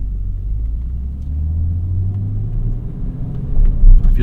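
A BMW M Coupe with its S52 engine is being driven, heard from inside as a low steady rumble and engine drone with a rise in revs near the end, binaurally recorded.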